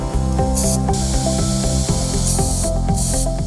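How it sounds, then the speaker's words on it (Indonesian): Carburetor cleaner sprayed onto the carburetor of a Suzuki 15 HP outboard engine in short hissing bursts, loud and close, with a steady pitched music bed running underneath. "Gunakan karburator cleaner untuk membersihkan kotoran-kotoran atau jelaga-jelaga yang menyumbat di saluran-saluran karburator."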